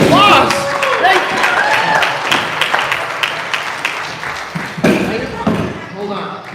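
Audience applause at a county fair opening ceremony, a burst of clapping that fades and then swells again, with people talking over it.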